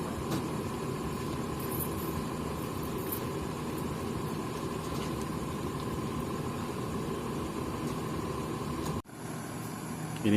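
A CKJ bus idles on the Lintas Aceh road in Aceh Tamiang, giving a steady, close engine rumble with a constant hum throughout. The sound cuts off abruptly near the end.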